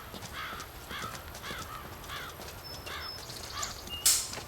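Crows in the Hellish Quart sword-fighting video game caw repeatedly in a rough, rhythmic series against steady ambient game noise, moderately distant, ending with a brief sharp clash.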